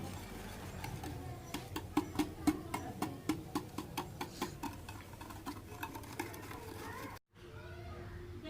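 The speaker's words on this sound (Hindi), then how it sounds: "चीनी को भी जो है अच्छी तरह इसमें जो है मिक्स करेंगे।" Sugar is mixed into tea cake batter in a bowl, with a quick, regular series of tapping, scraping strokes from the mixing utensil over a low background hum, then a brief silence and quieter continuation.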